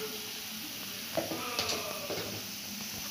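Coriander powder is stirred into frying masala in a pan, a faint, low sizzle with a few light scraping strokes in the middle.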